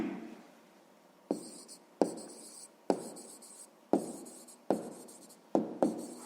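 A pen writes a math answer by hand on paper in a quiet room: a series of close, soft scratchy strokes in short bursts, about seven of them, with brief pauses between.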